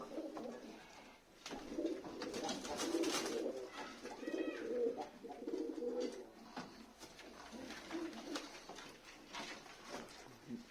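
Pigeons coo in soft, throaty repeated phrases, fairly close, with some faint rustling between calls.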